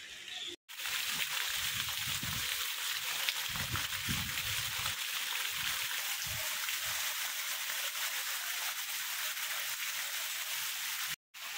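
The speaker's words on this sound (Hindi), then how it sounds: "तो अभी बारिश होना शुरू हो चुकी है, तो देखिए पानी बरस रहा है और मौसम भी ठंडा हो गया है" Heavy rain pours down in a broad, dense hiss, with low sloshing and splashing bursts early on, steady and close throughout.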